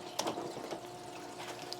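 Water draining from a goldfish tank during a water change, a steady soft gurgling and bubbling flow with small splashy spurts, close and continuous with a faint hum underneath.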